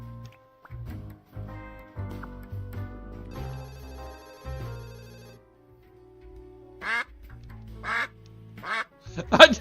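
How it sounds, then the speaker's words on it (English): A duck quacking in a video game: several short, cartoonish quacks mixed with ringing, phone-like electronic tones and game sounds, ending in a cluster of sharper, louder quack bursts. "I didn't know I could quack."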